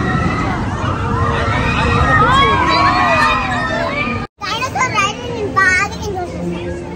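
Crowd of riders screaming and shouting on a river adventure water ride at a theme park, a dense continuous wall of high excited voices, with children's cries standing out, loud and close.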